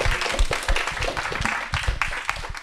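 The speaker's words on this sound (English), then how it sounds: "I'd like to give a round of applause for Laura and Raj, who are sitting in the back" A seminar audience gives a round of applause for the organizers, a dense, close burst of many hands clapping that stays steady for a few seconds.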